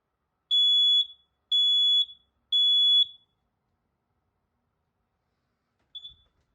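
A household smoke alarm sounds during a test: three loud, high, piercing beeps in an even rhythm, then silence and one shorter, fainter chirp.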